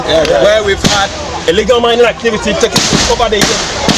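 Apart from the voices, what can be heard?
gunshots fired by police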